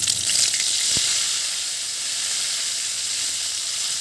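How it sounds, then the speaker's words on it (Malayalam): Curry leaves and mustard seeds drop into hot oil in a pan, giving a loud, steady sizzle and hiss with a sharp crackle near the start. "കറിവേപ്പിലയും ഇട്ട് കൊടുക്കാം."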